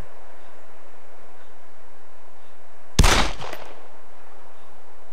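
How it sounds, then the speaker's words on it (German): A single loud gunshot in DayZ cracks sharply at about three seconds and trails off in a brief echoing decay, with near silence before and after. "Ich hab daneben geschossen."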